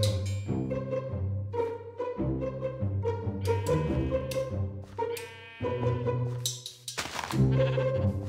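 Sheep in Minecraft bleat repeatedly in short overlapping calls, several animals close together with loud, steady bleats and no talking.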